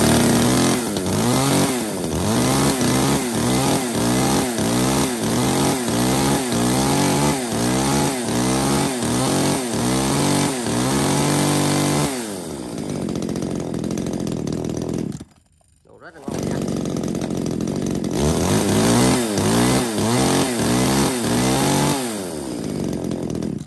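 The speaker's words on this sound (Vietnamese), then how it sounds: "Rồi, giờ test nổ cho anh em nghe qua con này." Makita MDE333 33cc chainsaw with a 38mm cylinder bore started for a test run, a loud close rasping engine revved in repeated pulsing bursts, then dropping to idle, briefly cutting out and roaring back, under a man's speech.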